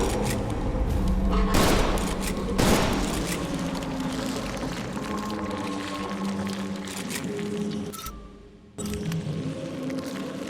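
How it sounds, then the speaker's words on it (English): A shotgun fires in a video game, two loud, sharp blasts in quick succession over a steady bed of game ambience and humming tones, followed by quieter rumbling. "Put 5 more shots in my shotgun."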